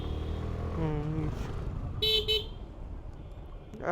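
Two quick car horn honks sound close by in a rain-soaked road traffic jam, over a low engine hum of idling and moving vehicles.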